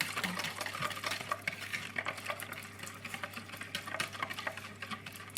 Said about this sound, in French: on va fouetter, on va fouetter